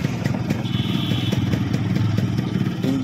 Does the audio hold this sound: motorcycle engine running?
yes